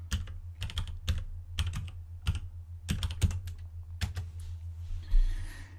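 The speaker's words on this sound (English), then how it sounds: "you get to Google just by typing google.com" Fingers typing on a computer keyboard, a quick run of sharp, close key clicks in uneven bursts, ending with a softer brushing rustle.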